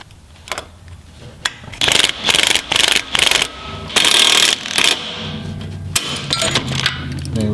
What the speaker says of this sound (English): I'm going to see if it'll tighten down with this gun.